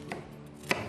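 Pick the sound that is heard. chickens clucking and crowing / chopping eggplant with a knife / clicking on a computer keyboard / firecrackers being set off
chopping eggplant with a knife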